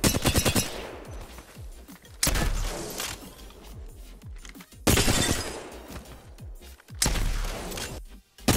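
Apex Legends gameplay carries loud bursts of rapid gunfire in several separate volleys, each dropping away to quieter rustling movement and shell-like clinks between them.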